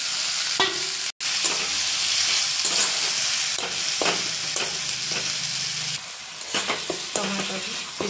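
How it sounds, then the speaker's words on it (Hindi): Spices and tomatoes sizzle and fry in a pan for a mutton curry, a steady loud crackle broken by spoon stirring and scraping against the pan, with one abrupt brief cutout. "मसला भी देद एबे टमाटो पकई देबा"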